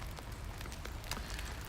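Steady rain falling in Tokyo, Japan after snow, heard from under an umbrella, a dense continuous patter with scattered louder drop taps close by.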